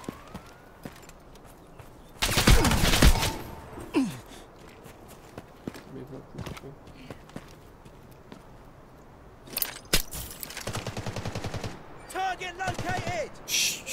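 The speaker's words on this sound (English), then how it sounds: "Yeah, they're shooting at me." Gunfire in the Delta Force Hawk Ops shooter game comes as a loud burst early on and then as scattered, sharper shots and short volleys at varying distances, with players talking intermittently.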